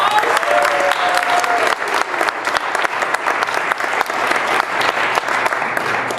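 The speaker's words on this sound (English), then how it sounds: "Let's give them a round of applause." At a 2017 victory celebration, a crowd bursts into sustained applause, loud dense clapping that runs for several seconds with a faint background voice near the start.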